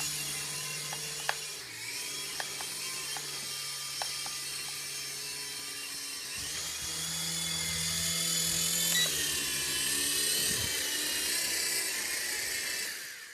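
The electric motor of a Cheerwing U12S metal scout toy helicopter with FPV camera whines steadily and close, rising and shifting in pitch partway through, with a few small clicks early on.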